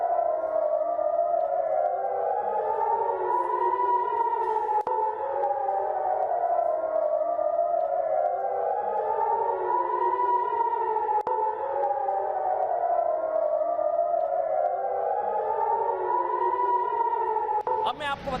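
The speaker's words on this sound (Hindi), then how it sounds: "तेल अवीव में सायरन बजना है" An air raid siren wails over Tel Aviv, its rising and falling tone cycling steadily and loudly, overlapping with echoed copies of itself in repeated slow sweeps for the whole stretch.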